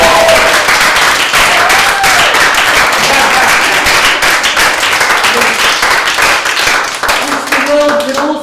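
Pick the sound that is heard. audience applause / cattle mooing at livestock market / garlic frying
audience applause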